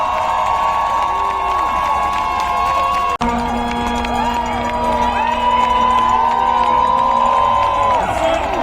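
An audience cheers and applauds for a comedian, a dense crowd roar with whoops that briefly drops out, then swells again, loud and continuous.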